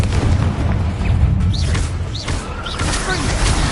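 Confringo fire spell blasts in Hogwarts Legacy, fought against spiders: a loud booming burst followed by swooping whooshes and crackling impacts over dense low rumble.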